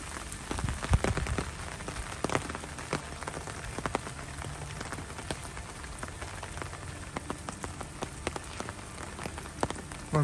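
Steady rain patters on the ground and nearby surfaces during a muddy walk with a Belgian Shepherd, with scattered sharper drops hitting close by throughout and no voices.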